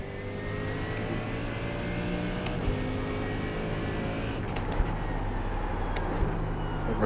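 A GT3 race car at Catalunya in a VR racing game: a continuous engine whine that rises and falls through the gears, heard at a moderate level with a few sharp clicks and no talking.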